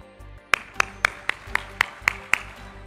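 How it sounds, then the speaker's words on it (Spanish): A lone person claps eight times in a steady, evenly spaced rhythm as the president of Colombia enters, each clap sharp and close against a quiet room background. "Después se conoció la identidad del autor de ese aplauso."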